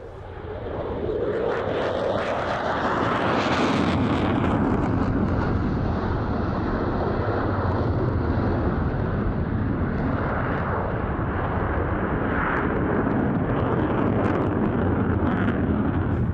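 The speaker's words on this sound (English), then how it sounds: "First of a number of F16 displays over the RIAT weekend" A Belgian Air Force F-16 jet performs a flying display at RIAT, its loud, continuous roar rising in the first seconds and then holding as a sustained, broadband jet rumble with wind buffeting throughout.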